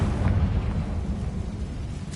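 Confringo spell blast in Hogwarts Legacy, a low rumbling explosion that booms early and decays into a dull, sustained roar, moderately loud with no talk over it.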